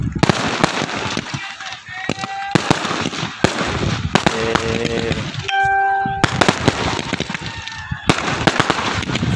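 Firecrackers burst in rapid, loud volleys of sharp cracks and bangs after a village cricket tournament final, with brief pauses and people's voices between.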